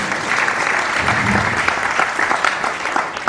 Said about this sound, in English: Please give me a round of applause if you believe in that.